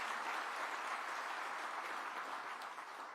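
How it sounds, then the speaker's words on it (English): An audience claps steadily at a live Atlanta civic event on affordable housing, a dense wash of applause heard from a distance at moderate volume without pause. "make sure y'all give them a hand clap every time you see them"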